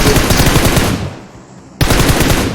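Rapid automatic gunfire from a bot in PUBG Mobile, loud and close, with two sustained bursts split by a brief pause.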